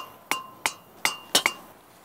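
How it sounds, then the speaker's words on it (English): Stakes hammered into landscape edging along turf, five sharp metallic strikes at uneven intervals, the last two close together, loud and near with no talk. "you're going to hammer these down in."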